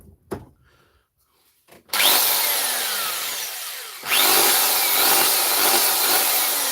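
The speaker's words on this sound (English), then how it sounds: "we got a DeWalt core drill." A plug-in DeWalt core drill starts up after a few faint knocks, its motor whirring in a loud, steady whine that dips briefly, then surges again and holds until the end.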